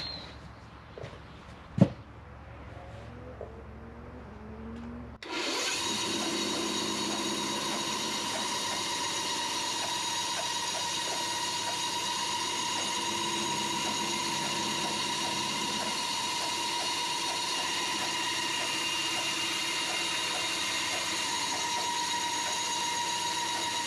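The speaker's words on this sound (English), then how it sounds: "I'm going to saw the ends off using my bandsaw." A bandsaw cuts the handle ends off printmaking tools: after a few seconds of quiet handling and a sharp knock, the saw starts up and runs as a loud, steady whine with a hum, close by and alone.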